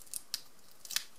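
Scissors snip paper close up as it is fussy cut for card making, a few quick, crisp cuts in about a second.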